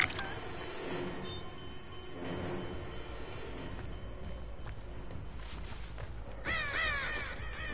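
Caws from crows in the horror game Dead by Daylight break out near the end over a dense rumbling, rail-like ambient bed that fills the rest of the clip.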